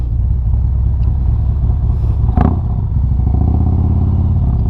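A Harley motorcycle fitted with a TAB Performance Redline exhaust rumbles loudly and close, a deep continuous throaty drone with a brief clattering spike midway, riding over gravel.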